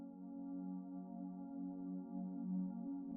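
The consolidated three-note progression track from a slowcore FL Studio project: a soft, sustained harmonic chord drone with gentle swelling movement, held evenly throughout with no other sounds.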